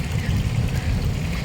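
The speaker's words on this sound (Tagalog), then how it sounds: "ang lakas ng hangin" A strong gusty wind buffets the microphone beside a hotel pool, a loud steady low rumble filling the moment without pause.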